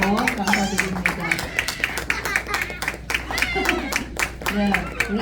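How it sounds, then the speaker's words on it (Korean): A church congregation claps after a children's praise song, a dense run of hand claps lasting throughout, with voices and crowd murmur mixed in underneath. "큰 박수로 화답합니다."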